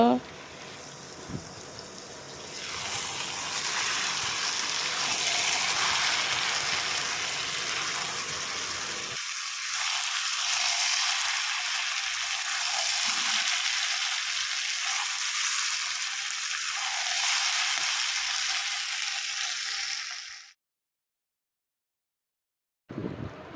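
Fish pieces, later with a little gravy added, fry in a pan as a loud, steady broadband sizzle for about twenty seconds, thinning toward the end before cutting off abruptly.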